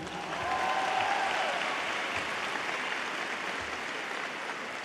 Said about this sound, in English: Let's give another round of applause for Aaron.